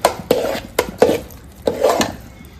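A spoon stirs and mixes thick millet pongal in a cooking pot, giving a series of close, uneven scraping knocks and clacks against the metal, about five strokes in quick succession.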